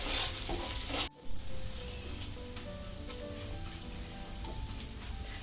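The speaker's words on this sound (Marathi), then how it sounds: "याच्यामध्ये मी आता हे तांदूळ घालते हे तांदूळ आहे ना तुपामध्ये चांगले व्यवस्थित फ्राय करून घ्या" Rice sizzling in hot ghee with spices for sweet coconut rice, a steady soft frying hiss broken by a sharp clatter as the grains go into the pan.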